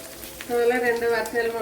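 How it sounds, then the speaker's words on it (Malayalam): Urad dal frying in a pan gives a soft, steady sizzle, with a person talking over it. "വൺ ടേബിൾ സ്പൂൺ ഉഴുന്ന് ഇത്രയും നല്ലവണ്ണം ഒന്ന് മൂപ്പിച്ചെടുക്കണം"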